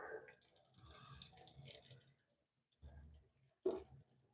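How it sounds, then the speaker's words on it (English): Hot water running from a tap into a sink, a steady broadband rush for about two seconds, then a pause and two shorter bursts of flow, heard fairly quietly and alone. "Let's start with hot water."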